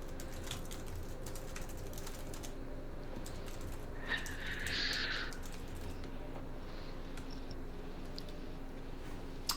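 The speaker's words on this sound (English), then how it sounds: "I am typing out tweet posts right now and also mailing out the thing to the mailing list." Light, scattered keystrokes on a computer keyboard while posts are typed, soft irregular clicks over a quiet room hum with a brief brighter burst midway.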